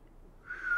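Someone trying to whistle, starting with breathy air and then producing a thin, wavering tone that rises and grows slightly louder near the end, faint and brief.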